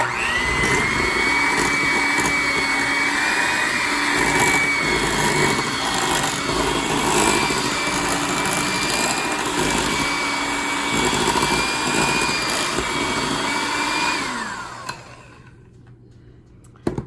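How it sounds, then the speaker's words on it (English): Cooked, peeled all-purpose potatoes are mashed with a loud, steady motor whine that holds for about fourteen seconds before winding down to quiet. "I'm just gonna mash them up a little bit"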